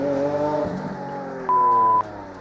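A Lamborghini Aventador LP700-4's V12 engine drones loud and close with a steady harmonic note, then a short sharp high tone rises above it for about half a second before it settles back.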